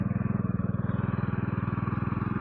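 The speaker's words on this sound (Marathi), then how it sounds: "आता आमच्या भाऊनी ट्रॅक्टर धरलाय. त्याला काय धरता येत नाही, पण धरलाय हळूहळू चालवतोय." A tractor putters slowly through a muddy paddy field during rice planting, its engine giving a steady, rapid low thumping close by without a break.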